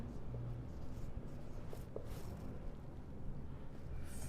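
Pen or pencil writing keywords by hand on paper, faint close scratchy strokes in short bursts over a quiet room background.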